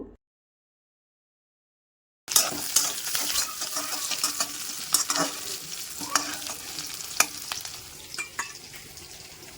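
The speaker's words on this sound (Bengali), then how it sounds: "এই যে গ্যাসের চুলায় কড়াই বসিয়ে দিছি, কড়াইটা অনেক গরম হয়ে গেছে, সেই জন্য একটু তেল দিয়ে দিলাম" Oil sizzles and crackles in a very hot wok on a gas stove after near silence, a close, steady frying hiss with sharp pops and spatters scattered through it.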